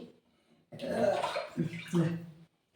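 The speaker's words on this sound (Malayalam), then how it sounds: "കുറച്ച് വെള്ളം ഒഴിച്ചിട്ട്" Water pours into a cooking pan for a tomato buttermilk curry, a close splashing gush lasting about two seconds after a brief quiet start.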